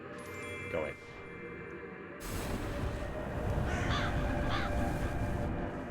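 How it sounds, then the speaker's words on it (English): A crow caws in a video game, two short calls rising over a steady ambient game soundscape, fairly close and moderately loud, alongside speech. "Bird."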